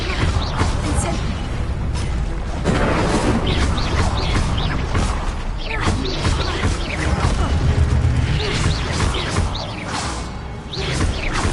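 Incendio fire spell cast in Hogwarts Legacy, a dense, continuous layer of whooshing, crackling bursts and booming impacts lasting throughout, loud and busy with other game effects mixed in.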